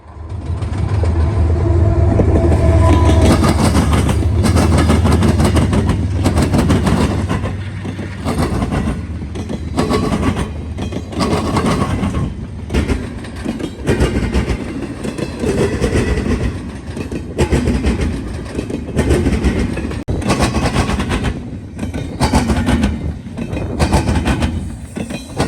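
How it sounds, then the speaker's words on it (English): CSX eastbound hotshot freight train I-008 rushes past on the Indy Line with loud rolling rumble and clickety-clack of wheels over rail joints, heaviest at first and then a sustained rattle of passing cars in the wind. "eastbound hotshot I-008 flies east towards"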